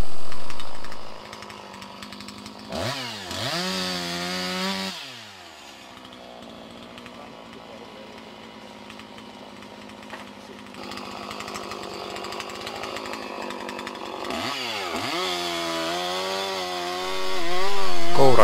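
A chainsaw makes a felling cut into a tree trunk, revving up loudly at the start, settling into a steady buzzing cut through the wood, then dropping to idle before revving hard again.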